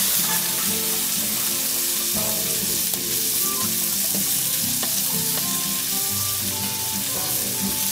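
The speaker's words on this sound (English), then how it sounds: "I think I'm a little hot for frying an egg." An egg fries in a hot pan on a rocket stove, sizzling loudly and steadily, with food frying and popping close by, scattered clinks of a utensil over the hiss.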